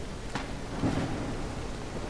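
Steady rain falls in the Quarantine Zone video game, a constant broadband hiss with a faint rumble beneath it, even and continuous throughout.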